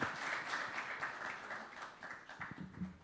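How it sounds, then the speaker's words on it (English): An audience applauds a guest at a fireside chat session, soft and somewhat distant clapping that holds steady and then thins a little toward the end. "Vazirani with a huge round of applause"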